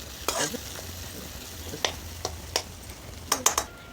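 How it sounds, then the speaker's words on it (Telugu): Freshly ground ginger-garlic paste fries in a pan with a quiet sizzle, broken by sharp clicks of a spoon stirring it at irregular intervals, close by and with no talking. "అల్లం కూడా పచ్చివాసన పోయిందాక కొద్దిగా ఫ్రై చేసుకుందాం"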